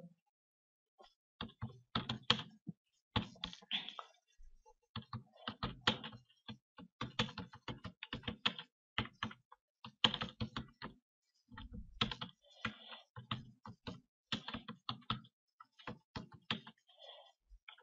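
Close keys clatter on a computer keyboard in irregular bursts of quick taps with short pauses between words, quiet and alone with no talking.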